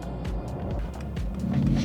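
A Mercedes V8 car drives with a low engine rumble and rising, falling revs, close and steady, as if heard from inside or near the car, with no talking.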